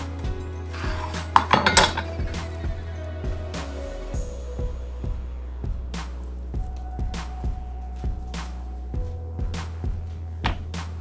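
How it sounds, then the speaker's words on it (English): A sharp knife slicing a partially frozen beef roast into quarter-inch strips on a board, with a cluster of clattering knocks early, then regular evenly spaced chopping taps near and clear with no talking. "Cut the whole roast up into 1/4 inch strips just like this."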